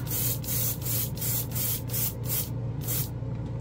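An airbrush sprays Vallejo Game Air paint in short repeated bursts, each hiss starting and stopping in an uneven rhythm over a constant low compressor hum.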